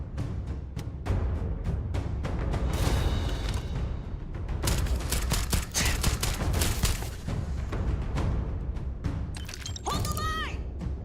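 Gunfire in the Starfield game, with rapid dense bursts of shots and crackling impacts, loud and near, continuing for most of the stretch, with a brief whooshing effect near the end.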